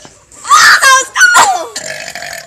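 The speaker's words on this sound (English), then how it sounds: "Start burping." A child lets out loud, drawn-out burps, two strong bursts followed by a gurgling tail, close to the recorder with faint giggling around them.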